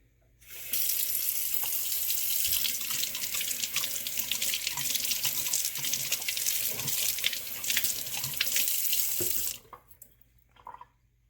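Running tap water rinses a Nutribullet Pro 1000 blender in a sink: a steady, close hiss and splash that starts abruptly, flows for about nine seconds, then cuts off, leaving a few drips.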